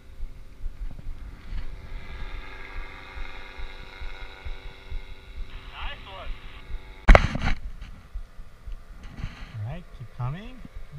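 Paramotor engine running steadily under power during a training session, a continuous droning hum with a sharp knock partway through and a voice speaking over it near the end.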